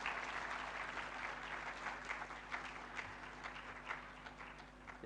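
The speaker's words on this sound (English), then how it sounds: "So keep clapping until he starts." Audience clapping at a university student-industry conference, a continuous patter of many hands heard faintly at a distance behind a low steady hum.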